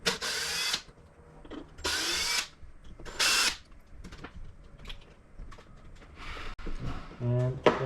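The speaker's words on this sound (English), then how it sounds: "we're now going to take out the 3 screws here to remove the servo" A power screwdriver backs screws out of a Promodeler DS1885BLWR midi servo in an X-Maxx RC truck, with several short loud whirring bursts close up between small clicks and handling noises, while someone talks.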